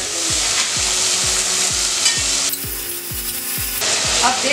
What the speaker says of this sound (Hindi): अब जल्दी से इसमें हम हमारा जो ऑनियन है उसको ऐड कर देंगे.